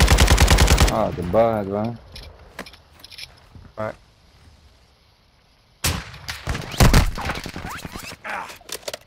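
Gunfire in a military shooter video game, loud bursts of rapid shots opening and closing the stretch, with quieter sparse impacts between and someone talking over parts of it.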